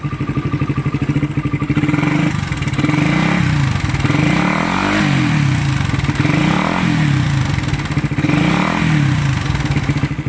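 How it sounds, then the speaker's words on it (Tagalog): A loud motorcycle engine runs close by, rising and falling in repeated revs over a steady rattling idle, with no talking. "Yun mga kulaog, napakaingay talaga ng motor ni boss."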